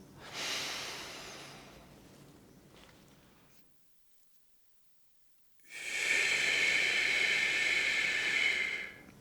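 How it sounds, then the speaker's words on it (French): A person breathes slowly in a triangle-breathing exercise: a long airy inhale, a few seconds of silent hold, then a loud, steady breathy exhale, close to the microphone. "respiration en triangle. 4 secondes, 4 secondes, 4 secondes, inspire, rétention, expire."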